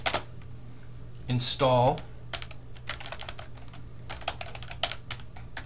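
Keys clatter in quick bursts on a computer keyboard as a Linux command is entered, close and crisp, with someone speaking briefly in the middle.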